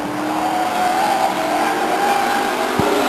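Race cars roar past the grandstand at Stockton 99 Speedway, neck and neck, engines loud and close with a falling pitch as they go by. A strong tonal engine drone continues, with a brief thump near the end.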